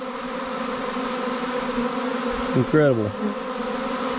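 A honeybee swarm fills the air with a steady, dense buzzing hum of many insects, close and continuous throughout, with a brief spoken exclamation partway through.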